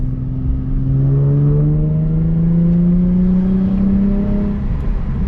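A Nissan 350Z with a welded differential accelerates on a test drive, its engine note climbing steadily in pitch through a long, continuous pull, loud and close with no voices.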